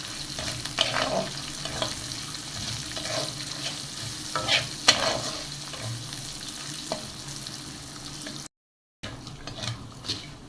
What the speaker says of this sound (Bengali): এখন এগুলো সবই ব্রাউন করে ভেজে নেব